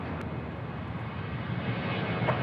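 Boeing 737-800 jet at Sydney Airport, a brief steady engine roar that is fairly distant and even, rising slightly toward the end with no talking over it.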